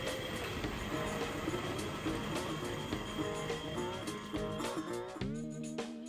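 Tri-ang Hornby R.2233 Co-Bo diesel electric locomotive model, ex-Hornby Dublo, running wagons back onto a spur at the end of a passing loop, giving a steady close motor whir and rolling rattle that slows near the end.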